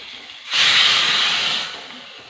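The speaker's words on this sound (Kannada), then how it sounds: "ಈಗ ಒಗ್ಗರಣೆ ರೆಡಿ ಇದೆ. ಇದನ್ನ ಇದಕ್ಕೆ ಇವಾಗ ಟ್ರಾನ್ಸ್ಫರ್ ಮಾಡ್ಕೊಳ್ಳೋಣ." Hot tempering (oggarane) poured into gravy, a sudden loud hissing sizzle that bursts up close, holds steady for about a second, then gradually fades back toward quiet.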